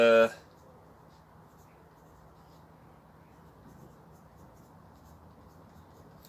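A marker scratches steadily and softly on a wooden lollipop-stick plant label while bitter melons and other tropical vegetables are being potted. It begins with a short loud knock, then a low, continuous scribbling texture.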